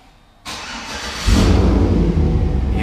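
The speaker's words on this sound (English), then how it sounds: "You hear that exhaust fire up?" A used Chevrolet Silverado pickup's starter whirs briefly before the engine catches, and the exhaust bursts into a loud, deep, steady rumble close by.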